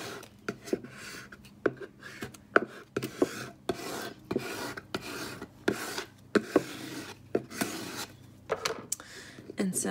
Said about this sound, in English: So now I'm just gonna scrape this down.